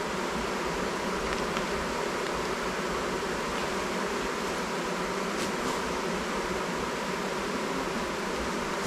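A dense, continuous hum of honeybees inside a hive that has a drone-laying worker bee, steady and fairly loud throughout with no talking.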